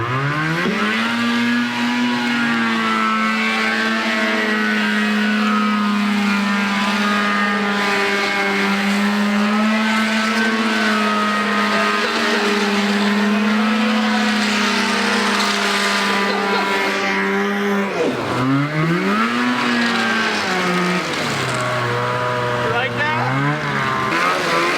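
A dirt bike engine revs loud and close with a steady sustained drone, its pitch dipping and rising near the end on a rough trail ride in South Carolina, with people talking over it.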